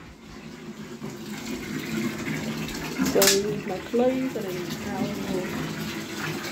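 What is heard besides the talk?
running bath water filling the tub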